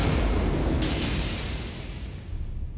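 A frost explosion from the Hoarfrost Stomp skill in Elden Ring: a loud, broadband icy burst that roars and then slowly decays over a few seconds, with a crackling shimmer when the frost crystals pop up.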